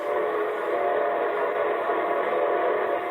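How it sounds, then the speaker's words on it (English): A locomotive train whistle sounding its signal on approach to a station or crossing, one loud, sustained steady blast, close and alone. "that's the signal a locomotive engineer blows when his train is approaching railroad stations, junctions, and railroad crossings"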